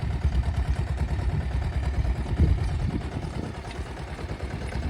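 A tractor engine runs steadily in a farm field while it ploughs a sesame crop, a low, continuous mid-pitched rumble with light clatter, fairly close and with no talk.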